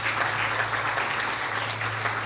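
A church congregation applauding during a Sunday sermon, a steady, dense patter of many hands clapping together, sustained and moderately loud from a room full of people.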